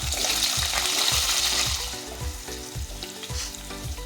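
Diced potatoes fry in oil with cardamom, cloves, a dried chilli and a pinch of salt, giving a steady close sizzle broken by regular stirring scrapes about every half second.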